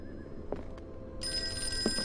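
A telephone bell rings in the Boston office of a detective agency in a Call of Cthulhu game, a bright electric ring cutting in midway over low background noise with a few soft thumps.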